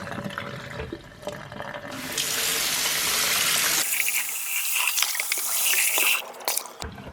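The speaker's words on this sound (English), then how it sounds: "if I give it a quick rinse in the sink" A sink tap runs water over a Thermomix bowl for a quick rinse, a loud rushing stream that swells as the bowl fills and splashes, then cuts off near the end.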